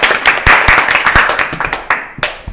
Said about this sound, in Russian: Аплодисменты игрокам